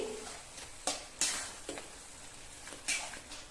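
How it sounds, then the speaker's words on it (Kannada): A spoon scrapes and clinks in a pot as ground peanut, coconut and coriander paste is stirred into a drumstick gravy, with a few sharp taps over a soft simmering hiss. "ಹಾಕೊಂಡು ಎಲ್ಲವನ್ನ ಒಂದ್ಸಲ ಮಿಕ್ಸ್ ಮಾಡ್ಕೊತಾ ಇದ್ದೀನಿ"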